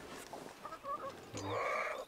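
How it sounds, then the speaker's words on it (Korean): Chickens cluck softly in a small experimental coop in the countryside, with short, scattered calls building into a louder burst of clucking at the end, fairly close and without talk. "그래서 닭들이 아래서 쪼아 먹으면 쪼아 먹은 만큼 자동으로 밑으로 쑥쑥쑥 들어가게 돼 있어요."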